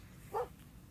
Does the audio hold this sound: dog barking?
yes